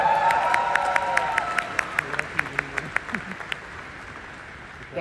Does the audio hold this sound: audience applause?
yes